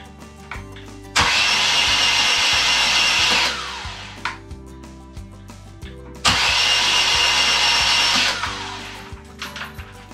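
A 1989 BMW R100GS motorcycle engine with a freshly replaced timing chain, run without load, roars loudly twice for about two seconds each, separated by a lower irregular idle and mechanical clatter.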